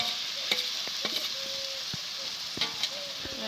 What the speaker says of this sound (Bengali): এবার দিয়ে দেবো সেদ্ধ করে রাখা ডাল